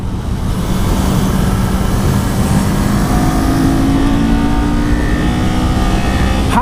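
A Kawasaki Z400 motorcycle engine revs hard through fast turns on a test ride, rising and falling in pitch with wind rush over a continuous loud drone, with no talking.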